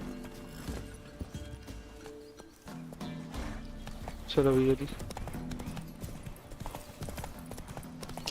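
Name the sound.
horse hooves trotting in The Witcher 3 video game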